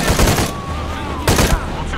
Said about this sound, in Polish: że padły kolejne strzały